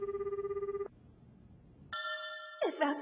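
A telephone rings in an animated scene, a clear electronic ringtone pulsing for about a second, then a pause and a second higher ring that shifts pitch, fairly quiet with no talk over it.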